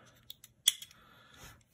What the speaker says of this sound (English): now it's the most impressive part of the tool, which is the scissors